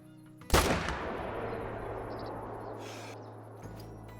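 A single loud rifle shot rings out at a level 3 male wild boar about 90 yards away in the Call of the Wild hunting game, with a sharp crack followed by a long rolling echo that fades over several seconds.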